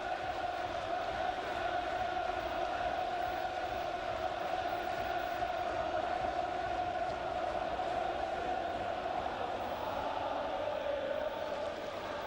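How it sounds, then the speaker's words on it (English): Football crowd at Sheffield United versus Manchester United, a continuous roar of cheering and chanting from a large stadium audience, sustained and even throughout. "Well, they've had plenty to cheer about."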